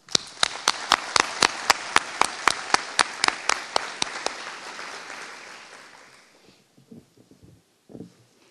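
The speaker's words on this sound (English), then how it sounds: "please join me in applauding the entire CELT 2012-1 class for a job well" A crowd at a corrections officer graduation ceremony applauding, with one or two sharp, steady claps standing out over the crowd; the clapping fades out after about six seconds, leaving faint room noise.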